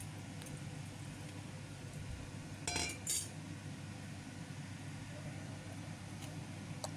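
Egg cooking in butter is stirred in a pan, with a faint low hum and a brief cluster of light metal clinks from a utensil against the pan near the middle.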